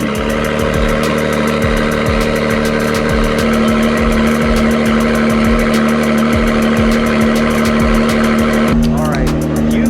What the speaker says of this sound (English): let's do a quick cold startup so you guys could hear the new wonders of this new NSX